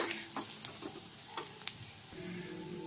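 Ground spices such as coriander powder and garam masala sizzle in hot oil for a soya chunks curry, with several soft scrapes and taps of a spoon stirring the pan, close and fairly quiet.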